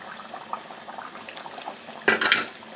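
About a kilo of whisked yogurt going into cooking biryani masala in a pot: a low simmering bubble with faint utensil clatter, then a louder wet splash and sizzle as the yogurt lands near the end.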